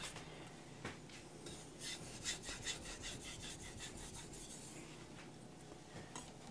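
A knife blade is pushed back and forth on a Naniwa Aotoshi whetstone with thinning slurry, a close, quiet run of rhythmic gritty scraping strokes with no talk.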